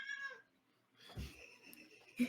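A cat meows faintly a few times, brief soft cries with quiet gaps between them and no talking over them.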